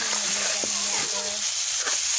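Spices fry and get stirred in a pan with salt, turmeric, garam masala and coriander, giving a steady close sizzle with brief scraping strokes from the stirring.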